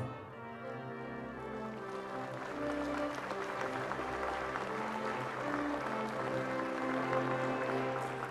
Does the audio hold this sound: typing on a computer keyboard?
no